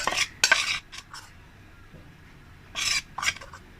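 Spoon clinking and scraping in a bowl while mixing oil with gram flour (besan) for a karanji coating, in two short bursts of clatter separated by a quiet pause.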